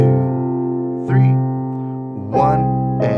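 Beginner piano arrangement of a song's intro, with sustained low notes and right-hand chords struck about twice. The tones are close and clear, with a soft counting voice over them.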